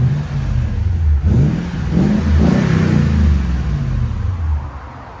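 A Toyota Tundra 5.7L V8 with an aftermarket exhaust is revved from idle, its deep rumble swelling into a loud throaty roar and then easing back, heard close with no one talking.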